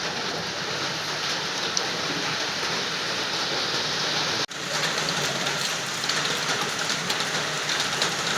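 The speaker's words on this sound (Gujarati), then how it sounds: "તો વરસાદ આ તો મસ્ત આવે છે" Steady rain falls outdoors as a dense, even hiss of drops, dropping out for a moment near the middle before carrying on at the same level.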